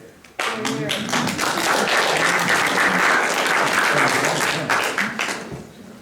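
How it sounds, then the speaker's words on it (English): Applause at a city council meeting: a sustained burst of clapping from the audience, loud and dense for several seconds before tapering off, with some voices mixed in. "Hold your applause, thank you."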